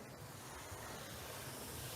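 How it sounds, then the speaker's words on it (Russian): Waterfall in Sulak Canyon, Dagestan, a steady broadband roar of falling water, close and continuous, with no voices. "А вот это уже водопад."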